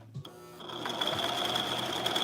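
A sewing machine starts after a brief knock and runs in a fairly quiet, steady, buzzing whir with a high whine, heard close and alone.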